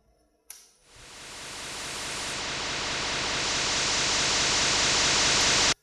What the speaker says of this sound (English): Your standard white noise type stuff.